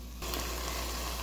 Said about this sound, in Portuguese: Misture bem e deixe fritar mais um pouco.